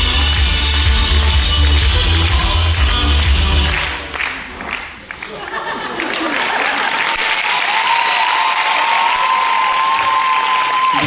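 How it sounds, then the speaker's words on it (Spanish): A crowd at a drag pageant applauds strongly after a performance, loud sustained clapping and some cheering under amplified music, dipping briefly before the clapping picks up again and continues to the end. "aparte de un fuerte aplauso para Loreto"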